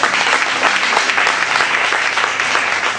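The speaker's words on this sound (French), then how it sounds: "Acclame très fort le Seigneur." A church congregation applauding loudly for the Lord during a sermon, producing dense, sustained clapping that fills the whole stretch at close range.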